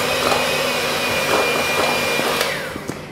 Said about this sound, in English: I've put the butter into the bowl and I'm going to whisk it to make sure it's soft.